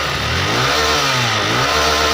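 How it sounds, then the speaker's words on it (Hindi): A Hero Super Splendor BS7 E20 motorcycle engine, started with the self-start, runs loud and close with a steady throbbing drone whose pitch rises and dips slightly as it revs. "इस बाइक को जैसे सेल्फ लगाता हूँ तो ये बाइक तुरंत ही स्टार्ट होती है।"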